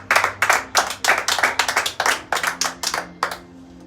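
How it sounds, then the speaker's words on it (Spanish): A church congregation claps hands in a quick, steady rhythm of about a dozen loud, sharp bursts that then fade, with no talk over them. "Dele palmas al Señor."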